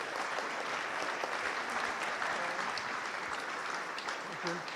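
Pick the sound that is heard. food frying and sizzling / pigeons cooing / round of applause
round of applause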